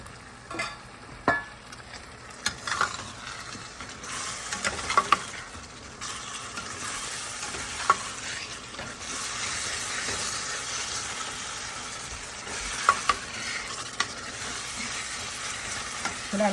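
Cut potatoes stirred into a frying tomato masala, giving a broad hissing sizzle that swells after they go in, with occasional spoon knocks and scrapes against the pan, close and without speech.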